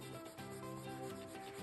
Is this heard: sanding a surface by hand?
yes